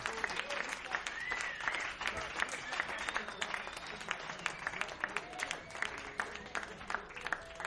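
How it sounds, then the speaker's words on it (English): Audience applause for the singer Esmeralda Padilla Gold at a music show, sustained crowd clapping with sharp individual claps standing out, moderately distant and continuous throughout. "how about a great big round of applause for Esmeralda Padilla Gold"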